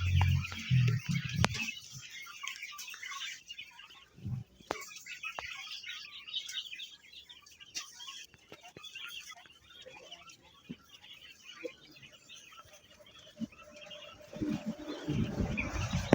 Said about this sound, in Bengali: দেখুন পাখিগুলো কি পুরপুরে মেজাজ আছে